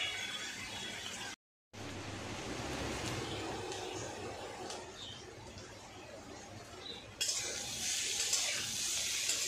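Potatoes and onions frying in a pan: a steady, close hiss and crackle with a stirring scrape, a brief silent gap, then the sizzle briefly gets louder and brighter.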